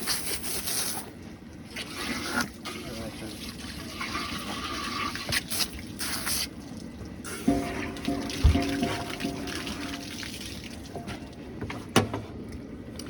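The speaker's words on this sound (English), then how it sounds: "So then we'll want to just rinse, give the part a good rinse." Water from a tap runs and splashes over chicken parts during home butchering on a homestead, a fairly quiet, steady rinse with some clatter.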